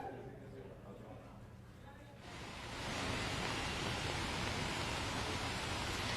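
Steady rain falls in Jaipur, a broad hissing wash that swells louder partway through and then holds constant, with a voice talking underneath.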